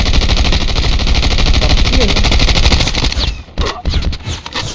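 Rapid bursts of automatic gunfire from the battle royale mobile game Call of Duty Mobile, loud and continuous for about three seconds, then breaking into scattered shots and impacts.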